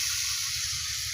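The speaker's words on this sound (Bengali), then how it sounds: "জল দিয়ে দিলাম" Water hitting a hot cooking pan, a steady loud sizzle and steam hiss lasting throughout, close and continuous with no talk.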